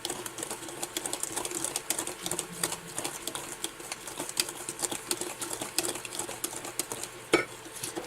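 Blueberry muffin batter being stirred in a bowl, with a steady run of quiet scraping, clicking and tapping strokes and one sharper knock near the end, all fairly close and faint.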